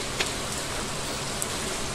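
Steady rainfall in the Stardew Valley video game, a dense even patter with a couple of sharper drops, heard alone with no talking.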